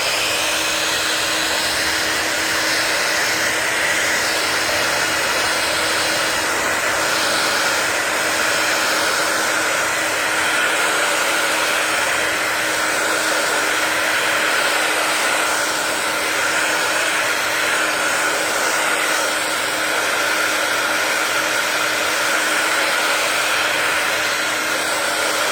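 A hair dryer blows steadily on a dried piece of clay, a loud, continuous whooshing whir that holds at an even level for the whole stretch with no pauses.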